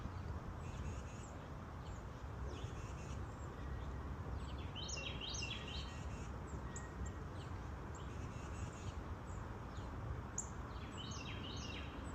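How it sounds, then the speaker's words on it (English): A bird sings in repeated high chirping phrases against a steady broadband outdoor background, moderately distant. "so that you can hear my friend the bird"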